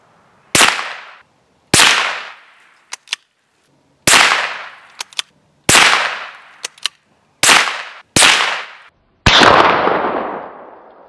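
A Daisy 2201 single-shot .22 LR rifle fires seven sharp, loud cracks at a pumpkin outdoors, each shot spaced one to two seconds apart with a short decaying echo and a few faint clicks between.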